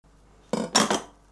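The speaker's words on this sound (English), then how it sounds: "For this other piece of chicken, we're just gonna slice it in half this way." A knife slices a piece of chicken in half into two cutlets on a board, giving two short, close clinks and scrapes of the blade against the surface, with no talking.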